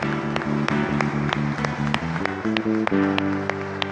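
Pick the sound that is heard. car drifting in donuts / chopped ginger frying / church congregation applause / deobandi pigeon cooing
church congregation applause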